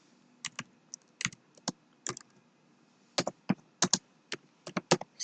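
Typing on a computer keyboard, with irregular bursts of crisp key clicks and short pauses between words, close and moderately quiet with no voices.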